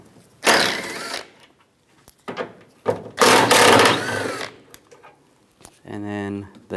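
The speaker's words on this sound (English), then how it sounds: "Now we're going to remove the nuts and bolts. Start with this one right here. Use a 10mm socket." A 10mm socket removes headlight nuts and bolts on a 1997-2001 Honda CR-V, giving bursts of ratchet whirring and clicking up close, separated by short pauses, with a voice speaking briefly at the end.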